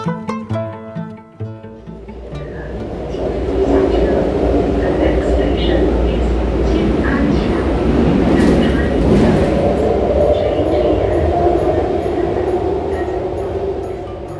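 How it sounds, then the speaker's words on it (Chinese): Beijing subway train ride, a loud sustained rumble and rush of the moving car after a few quiet knocks at the start, with people talking over it. "趁着坐地铁去承恩寺的这段时间呢"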